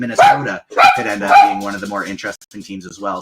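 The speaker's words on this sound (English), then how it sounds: "Sorry for my dog right at the end there." A dog barks and whimpers near a microphone, a few short yips breaking in under and between a man's steady speech.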